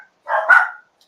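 A dog barks once in the background during a late-night chat, a single short, fairly clear bark with no other sound around it.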